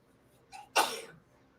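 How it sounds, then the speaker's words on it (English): A woman sneezes once at close range, a short inhale followed by a sharp, bursting sneeze that trails off quickly. "That's my wife sneezing."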